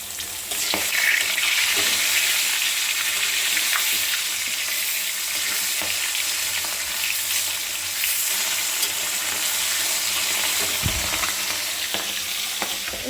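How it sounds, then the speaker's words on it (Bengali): Fish frying in a pan gives a steady, close sizzle lasting throughout, with occasional faint clinks and a running-water hiss, and no talk. "আর এই যে মাছ ভাজা চলছে"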